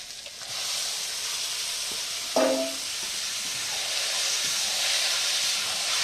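Marinated chicken hitting hot oil in a kadai, a steady broad hissing sizzle that swells slightly toward the end, with a brief clank partway through.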